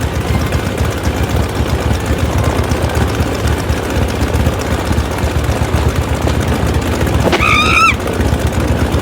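A burning aircraft engine in the adventure video game Jack Keane gives a steady, loud, rumbling drone with no break. Near the end, a short rising electronic chirp cuts through it.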